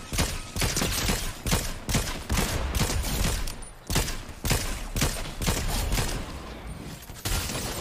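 Rapid gunfire rattles nonstop in Fortnite Chapter 4. Dense, loud automatic bursts roll on with brief gaps, and no voices are heard over them.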